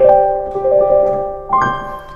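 A Casio Privia PX5S digital stage piano plays a few sustained notes and chords, clear and close, decaying slowly before another chord rings out.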